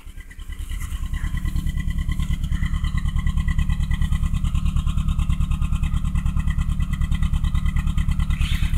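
A Toyota car engine running cold, starting up and then settling into a steady, loud, rhythmic idle pulse with no voices over it.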